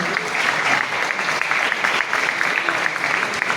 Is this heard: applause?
yes